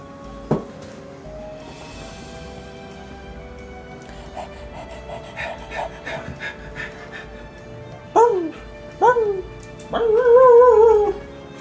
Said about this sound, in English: playing with the dog in the background